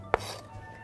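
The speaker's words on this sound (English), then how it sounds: "we'll do a little smaller slice on the red onion" A single knife cut through a red onion on a board, one sharp near chop followed by quiet room tone, with no talk.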